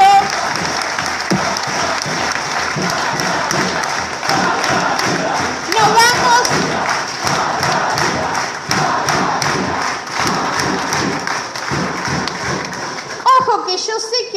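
A loud crowd at a socialist political rally applauds continuously, with shouting voices and thumping mixed into the dense clapping for the whole stretch.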